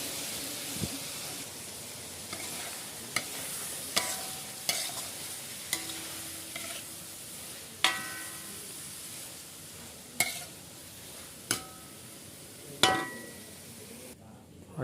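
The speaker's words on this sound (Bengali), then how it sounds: "চিংড়ি মাছ ভাজা হয়েছে, পেঁয়াজগুলো দিয়ে দিই।" Shrimp frying in a pan with onions added for a taro stolon dish, a steady soft sizzle under repeated stirring clatters and sharp scrapes of a spatula against the pan, no talk.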